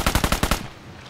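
A rapid burst of about six automatic gunshots from a shooter video game rings out close and loud, then trails off into quiet.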